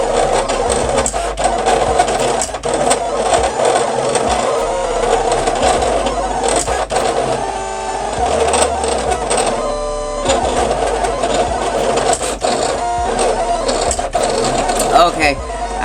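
Silhouette Cameo cutting machine printing and cutting a design, with a busy mechanical whirring, rapid clicks and shuttling carriage movements that start and stop at close range, alone without voices.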